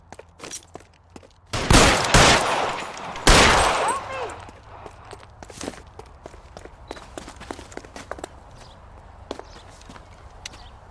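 Gunfire in a 1940s Los Angeles detective game: two loud, sharp bursts of shots near the start, followed by scattered fainter cracks, footsteps and clatter under a low background hum.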